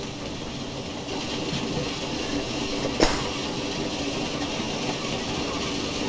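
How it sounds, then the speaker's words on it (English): Steady rolling rumble of a J94 Austerity 0-6-0ST saddle tank steam locomotive in Train Simulator Classic, a continuous broad wheel-and-rail noise with faint hiss and one brief sharp clank midway, no voices. "The rolling sound has always been loud, though."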